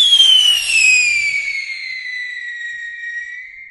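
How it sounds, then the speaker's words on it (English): A homemade whistling rocket firework launching, giving one loud, clear whistle that starts high and slowly falls in pitch while fading over several seconds, with no other sound. "Let's try to make a whistling rocket and a sparkling tail."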